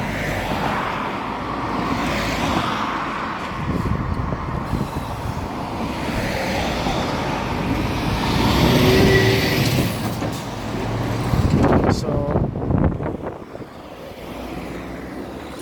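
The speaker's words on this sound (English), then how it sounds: "when cars are going past, it gets very loud and noisy" Cars and trucks pass on a nearby road in a steady, loud roadside rumble that swells as heavier vehicles go by in the middle and again near the end, with no talking.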